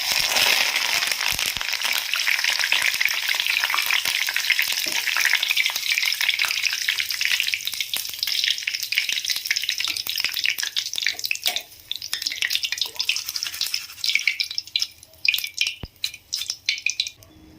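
Chana dal and curry leaves frying in hot oil in a ladle give a loud, steady sizzle with bubbling crackle that fades in its last few seconds and breaks into scattered pops and stirring.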